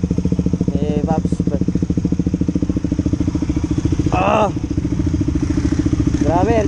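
A KTM RC200 motorcycle engine idles close by with a steady, even throb that holds throughout, while brief voices speak over it now and then.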